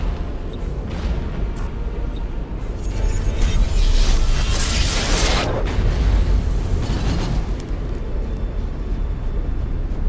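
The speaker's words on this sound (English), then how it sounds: "that's his battleship being destroyed" Loud space battle explosion as a battleship is destroyed in the Battlefleet Gothic: Armada video game, a sustained rumbling boom swelling midway over dense low-frequency roar and mechanical game effects, with no talk.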